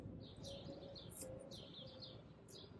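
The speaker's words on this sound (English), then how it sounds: "The birds chirping is my favorite thing in the whole entire world." Small birds chirp and tweet outdoors, with bright overlapping calls repeating through the whole stretch over a steady low background hum.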